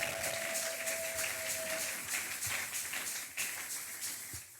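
A church congregation applauding during a Sunday service: sustained, fairly quiet clapping from a crowd that rises and falls, with a brief steady tone early on.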